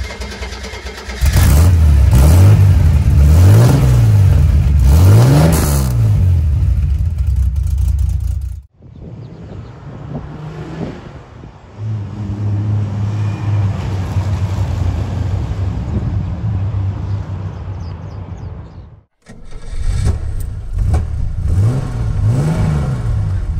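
A Puma GTB with a Chevrolet 250S 4.1 engine and sporty exhaust revs loudly in repeated rising and falling bursts, then settles to a steadier idle, then revs again at close range.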